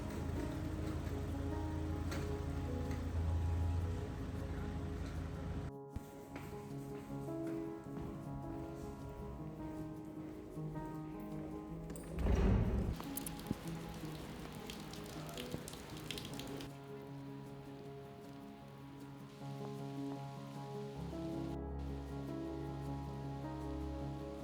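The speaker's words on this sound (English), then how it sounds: "so a little bit of rain was not gonna stop" Light rain falling outdoors during a walk with a dog, a soft continuous patter of drops on surfaces that stays fairly faint, with a louder rustling burst midway and a low steady hum underneath.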